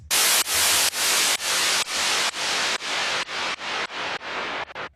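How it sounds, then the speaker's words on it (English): A hiss of filtered white noise pulses in about ten swells, its brightness gradually sweeping downward with each burst, loud and alone. "that's creating this cool tension, rising and falling effect in the white noise."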